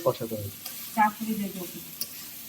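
Spice paste sizzles and hisses in a hot pan while a spoon scrapes and stirs it, close and steady with a few brief clinks.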